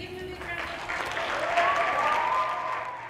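Audience applause for a school geography bee champion, a broad steady wash of clapping at moderate distance, swelling slightly midway with some faint background voices mixed in.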